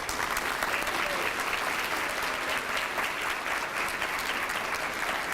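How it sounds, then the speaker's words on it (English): Sustained applause from a large conference audience after opening remarks, dense and steady clapping throughout without a break. "I just want to give them a big round of applause"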